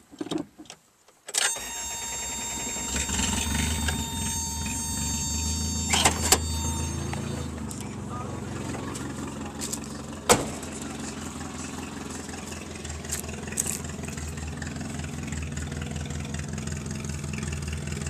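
A 1983 Toyota Tercel wagon with high mileage and a side pipe cranks and fires up close by, then settles into a loud, steady idle with occasional small revs and clunks.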